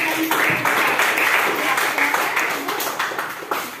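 A classroom breaks into a short burst of applause for a student group, dense hand clapping from many people nearby that tapers off within a few seconds.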